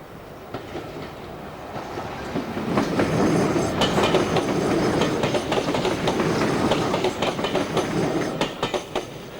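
A British Rail Class 303 blue electric multiple unit passing close by, with a steady rumble, rhythmic clickety-clack of wheels over rail joints and occasional sharp metallic clicks, loud throughout the clip.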